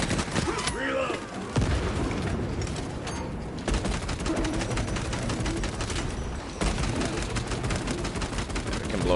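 Rapid gunfire from Warhammer 40,000: Space Marine 2 rattles almost without a break for the whole stretch, dense bursts with loud booms and short gaps, over a game soundtrack.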